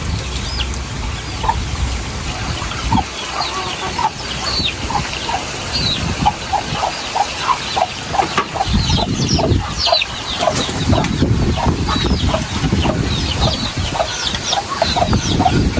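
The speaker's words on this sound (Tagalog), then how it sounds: "nagpapakain at nagpapainom ng kanyang mga alagang manok at sisiw" Several chickens cluck and chicks peep repeatedly while being fed and watered, over a steady outdoor background hum, the calls close and continuous throughout.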